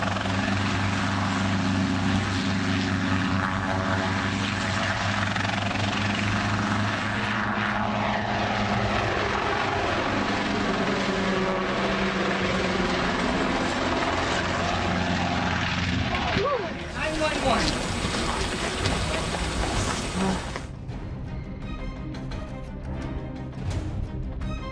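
A helicopter roars loudly overhead during an air show, its engine and rotor pitch sweeping as it passes, then shifts into a harsher high whine near the end.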